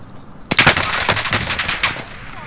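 A Type 100 submachine gun fires in Warzone Pacific, one loud, close, rapid automatic burst that starts abruptly and rattles on for about a second and a half before tapering off.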